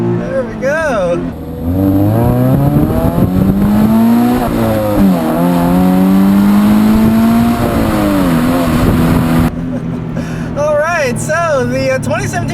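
A manual 2017 Subaru BRZ, 205 horsepower, accelerates hard along a back road, engine note climbing through the gears with a brief dip at a shift, loud and close from inside the cabin, with some talk at the start and end.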